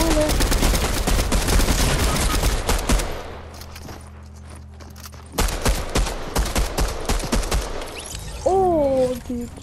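Pistol shots fired in rapid repeated succession in Fortnite, sharp close cracks in a fast stream, pausing briefly before another flurry, with a voice talking in between.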